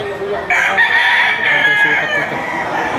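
A rooster crows loudly and close at an outdoor gamecock sale in Lipa, Batangas, with a long drawn-out call rising over a busy background of other fowl and crowd noise.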